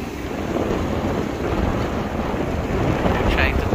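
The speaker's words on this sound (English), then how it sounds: "It's so windy." Strong wind blows outdoors, roaring steadily and buffeting the microphone with a dense, continuous rush that swells slightly toward the end.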